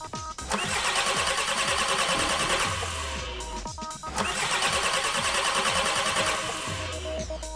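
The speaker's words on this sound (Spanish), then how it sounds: "Colocamos las puntas de prueba entre las vías 8 y 33 y accionamos el arranque." A TDI diesel car engine is cranked twice by the starter, each time a loud, close whirring crank that carries on for a few seconds and then stops, with a short quiet gap between attempts.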